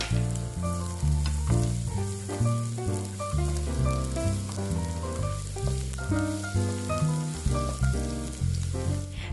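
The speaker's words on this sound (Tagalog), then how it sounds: "Ngayon naman ay igisa natin ang ating chopped garlic." Chopped garlic sautés in a pan for a low, continuous sizzle that sits under louder rhythmic background music throughout.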